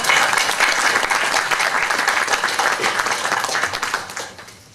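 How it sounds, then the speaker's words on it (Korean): An audience at a Seoul education superintendent campaign event claps in sustained, dense applause that holds steady before fading out near the end. "여러분 큰 박수로 맞이해주세요"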